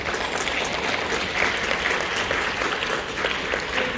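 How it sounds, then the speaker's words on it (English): Applause fills a county board of supervisors meeting in Los Angeles, an even, sustained wash of many hands clapping at moderate volume, heard at some distance with no one talking. "Big round of applause."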